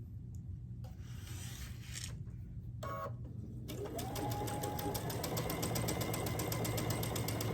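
A sewing machine stitches quilt block pieces at a quarter-inch seam, starting with short intermittent bursts of fabric handling and then running steadily and close from midway with a fast, even mechanical whir.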